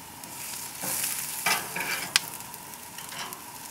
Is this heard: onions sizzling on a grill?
yes